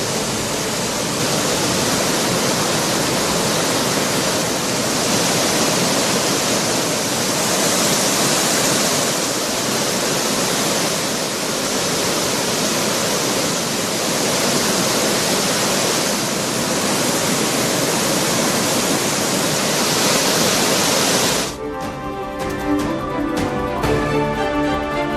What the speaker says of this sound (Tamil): தொடர் மழையால் கன்னியாகுமரி மாவட்டம் திருப்பரப்பு அருவியில் வெள்ளப்பெருக்கு.